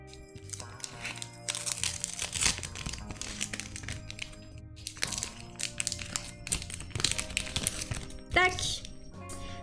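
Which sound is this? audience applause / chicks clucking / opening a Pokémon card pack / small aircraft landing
opening a Pokémon card pack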